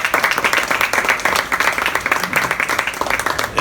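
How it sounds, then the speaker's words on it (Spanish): An audience at a philosophy talk applauds loudly, with steady, close clapping from many hands throughout and a faint voice mixed in. "un fuerte aplauso para estas dos distinguidas damas."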